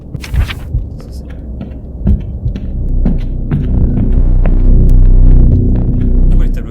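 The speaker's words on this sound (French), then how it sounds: "Pourquoi les tableaux ils font ce bruit là, sérieux?" Low, pulsing throb from the paintings in the horror game Dungeon Nightmares, a steady rumbling hum that swells louder through the second half, with faint game noises and brief clicks over it.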